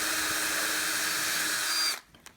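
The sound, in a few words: pre-drilling plexiglass with a cordless drill/driver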